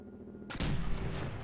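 Gunfire from a weapon in Fallout 4 cuts in sharply after a quiet, humming start, followed by a dense, loud burst of shots and rumbling impacts.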